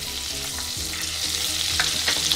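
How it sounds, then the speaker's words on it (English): Two tablespoons of butter melt into a tablespoon of hot oil as the base for sarson ka saag, giving a steady, close, crackling sizzle with no talking. "I've started with 1 tablespoon of oil. To that I'm adding about 2 tablespoons of butter"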